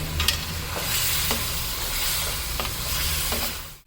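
Onions and turmeric fry in a pan for an Afghani-style chicken karahi, a continuous close sizzle broken by a few scraping stirs, with no talking.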